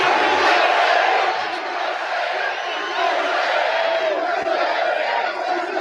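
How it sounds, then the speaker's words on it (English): A large rally crowd in an arena cheers and roars in a dense, sustained wash of voices, loud at first and easing slightly while still filling the space. "What a crowd. What a beautiful crowd."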